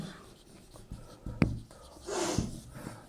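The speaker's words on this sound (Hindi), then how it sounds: "चलिए इन्हें लिखते हैं।" Pen or marker writing numbers on a board or paper for a counting lesson, a few short scratchy strokes and taps, fairly close and quiet, with no talk.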